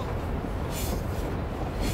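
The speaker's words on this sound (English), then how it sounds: "this happens that the train gives these jolts and then you can fall here" An iron ore train in Mauritania rumbles heavily along the track with a broad, constant roar and hiss, and two brief louder surges as the wagons jolt, heard close up from on board.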